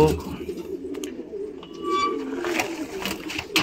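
A flock of loft pigeons cooing in low overlapping murmurs nearby, with a few clicks and a brief faint voice in the background.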